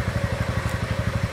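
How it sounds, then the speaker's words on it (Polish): A Piaggio MP3 500 scooter's engine idles close by, with a steady, even rhythmic chug and light mechanical clatter and no one talking. "Jak słyszycie, silnik pracuje cicho, bardzo elegancko, równo."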